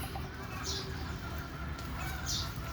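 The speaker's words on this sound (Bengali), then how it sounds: "বড় মুরগিগুলো দেখাই আপনাদেরকে" Native deshi chickens on a small poultry farm give two short clucking calls, about a second and a half apart, over a constant low rumble of background noise.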